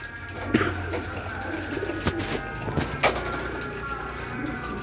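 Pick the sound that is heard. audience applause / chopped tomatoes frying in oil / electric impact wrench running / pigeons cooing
pigeons cooing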